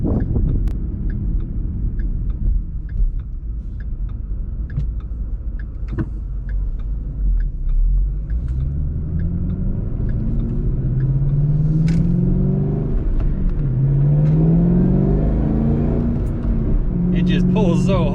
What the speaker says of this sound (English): Hear that supercharger whine every time it gets me.